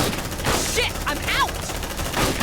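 Dense automatic gunfire from the sci-fi game Aliens: Dark Descent, sustained bursts across the whole stretch, loud and busy, with a few shouted voices breaking through the din.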